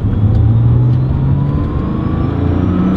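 A 1995 Porsche 911 993 C4 pulls hard in second gear, its engine a loud, close, steady drone whose pitch climbs smoothly over a few seconds, heard from inside the car with no voices.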